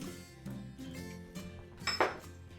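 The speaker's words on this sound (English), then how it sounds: "Start whisking that together" Egg yolk is whisked in a bowl for Caesar salad dressing, with light metallic clinks and scraping of the whisk against the bowl, quiet and close, rising to a brighter clink near the end.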